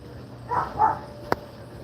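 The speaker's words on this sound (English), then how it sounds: "What are you barking at?" Dog barking outdoors on Salt Spring Island, Canada: two soft, somewhat distant barks in quick succession, followed by a sharp click.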